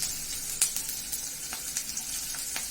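Green chilies with a pinch of salt frying in hot oil: a continuous close crackling sizzle with small pops scattered throughout, no voices.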